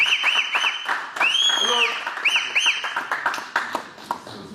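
Worshippers at a praise and prayer gathering honouring Papa Wemba clap together while high, gliding whistles or ululating cries rise repeatedly above the clapping, lively and close for several seconds before easing off.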